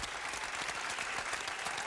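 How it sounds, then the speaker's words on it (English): A studio audience at a talk show applauds, a dense, steady patter of many hands clapping at even loudness throughout. "That deserves a round of applause, doesn't it?"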